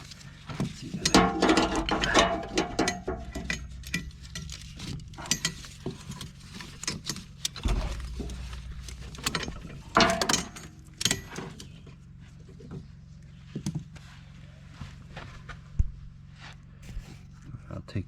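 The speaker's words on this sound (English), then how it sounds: "I'll take this other ratchet off." Ratchet being unfastened and removed from a TractionTracks traction device, giving repeated mechanical clicks, clacks and metallic jangles at close range, with pauses between bursts of handling noise.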